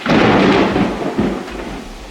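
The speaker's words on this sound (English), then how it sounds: "I don't like thunderstorms, but it's okay." A loud, close rumbling crack of thunder from a thunderstorm rolls in at once, then decays into a lower grumbling tail with a second swell, no speech over it.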